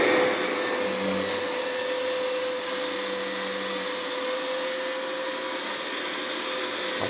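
An anti-dust-mite vacuum device runs steadily on a mattress, a loud, constant motor drone with a high whine that holds unbroken throughout, with no talking.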